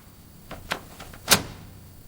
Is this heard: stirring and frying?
no